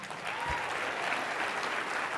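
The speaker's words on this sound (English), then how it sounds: "one more big round of applause for Rob." An audience at the Law Enforcement Torch Run for Special Olympics International Conference gives a big round of applause, thick continuous clapping filling the room.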